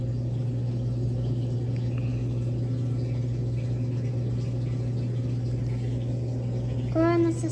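An LG washing machine draining water gives a steady low hum and continuous watery rush, close and unchanging, with a voice briefly breaking in near the end.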